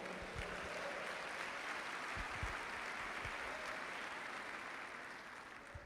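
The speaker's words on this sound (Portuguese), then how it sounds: "Então dá um aplauso ao Senhor." Church congregation applauding during a worship service, a steady wash of clapping from a large room that holds evenly throughout, moderately distant with no talk over it.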